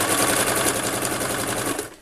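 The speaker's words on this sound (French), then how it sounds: "Je couds à 1 cm du bord" Sewing machine stitching fabric 1 cm from the edge for a washable wipes basket, a loud, close, continuous rapid mechanical rattle that slows and stops near the end.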